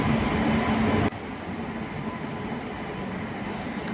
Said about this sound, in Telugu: ఈ ట్రైన్ అనేది కరీంనగర్ రైల్వే స్టేషన్లోని ప్లాట్ఫామ్ నెంబర్ 1 పైకి చేరుకుంటుంది